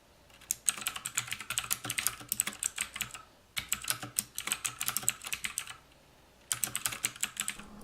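Typing on a TOMOKO 87-key mechanical gaming keyboard with stiff, tactile switches: three close, crisp bursts of rapid keystrokes separated by short pauses, with no voices.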